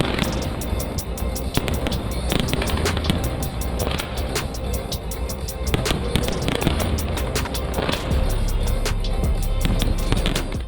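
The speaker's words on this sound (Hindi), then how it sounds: "शानदार आतिशबाजी ने माहौल को चार चांद लगा दिए।" New Year fireworks over the Champs-Élysées in Paris crackle and pop in a dense, unbroken barrage, loud and continuous, with sharp bangs scattered through a roaring crowd-like wash.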